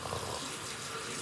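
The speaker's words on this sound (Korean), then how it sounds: "물소리." Water running from a tap in an apartment bathroom, a soft, steady splashing stream that stays constant and fairly faint from start to finish, with no voices over it.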